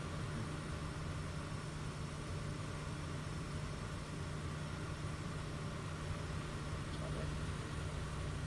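Light aircraft engine of a Kit Fox in a flight simulator game, a steady continuous drone held throughout at moderate level, with no pauses.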